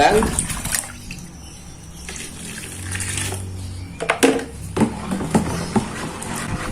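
Water is poured and stirred into a thickening homemade dish soap mixture, a close, steady splashing and gurgling that runs throughout, with a few louder sloshes near the end and someone talking over it.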